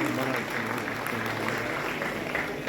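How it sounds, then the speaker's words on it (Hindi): An audience at a Union Territory Foundation Day event applauds from their seats, producing a steady, continuous wash of clapping throughout with faint crowd murmur beneath. "हम सब बैठे बैठे जोरदार तालियां बजा सकते हैं।"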